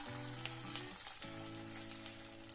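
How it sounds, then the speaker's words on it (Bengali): Small fish popcorn pieces fry in very hot oil, giving a faint, even sizzle with light crackles over a low tonal hum. "এখন আমি এতে পপকর্নগুলো ভেজে নিচ্ছি।"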